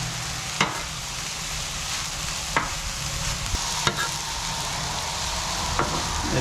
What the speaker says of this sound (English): I'm going to get all that nice and fried down.